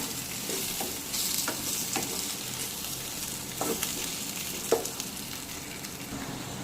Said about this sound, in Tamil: உருளைக்கிழங்கு வந்து எண்ணெயிலே நல்லா வெந்து வரட்டும்